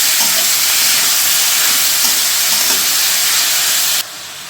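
Chopped potatoes are stirred in hot oil, giving a loud, steady frying hiss that holds throughout and then drops abruptly to a quieter sizzle near the end, with no voices.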